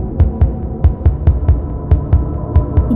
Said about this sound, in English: the beats with the sound of the heart